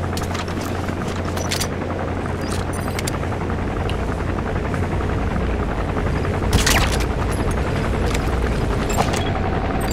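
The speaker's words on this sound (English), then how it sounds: "That's an enemy gunship." Enemy gunship helicopter in Metal Gear Solid 5: The Phantom Pain, a steady low rotor drone holding loud throughout with brief bright bursts of crackle around the middle, no talking.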